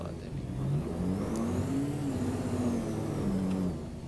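A car engine revs and accelerates in Euro Truck Simulator 2, during a race between a Toyota Fortuner and a Land Cruiser on a road. The pitch rises and falls steadily under continuous talk.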